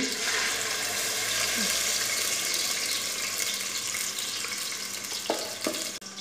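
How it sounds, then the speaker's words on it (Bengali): Raw oil poured into a hot pan sizzles with a steady, loud frying hiss that holds for several seconds, with a few light clinks near the end. "এই যে হচ্ছে কাঁচা তেল দিয়ে দিচ্ছি"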